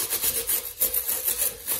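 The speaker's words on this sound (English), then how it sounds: "I've got a scuff pad that I'm gonna use to get the underside of this." A scuff pad scrubs the grimy underside of a shower drain pipe in quick, rhythmic back-and-forth rubbing strokes, close and moderately loud, about eight strokes in under two seconds.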